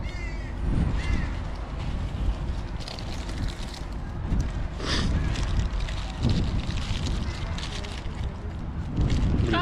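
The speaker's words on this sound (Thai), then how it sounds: "ลมแรง" Strong gusting wind roars continuously across the microphone at an outdoor chainsaw wood-carving event in Hope, British Columbia, loud and steady throughout, with brief louder gusts and faint other noises in the background.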